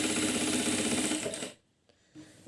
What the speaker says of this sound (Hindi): एक एक पैर का मार्जिन देते हुए यहाँ सिलाई लगा देंगे।